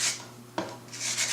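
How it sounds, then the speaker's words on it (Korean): A file rasps diagonally across protruding fret wire ends on a handmade ukulele fingerboard, with a few short scraping strokes and one sharper catch midway, close and fairly quiet. "이제 플랫 와이어 양쪽 끝 부분에 튀어나온 부분을 대각선으로 줄을 이용하여 갈아주겠습니다."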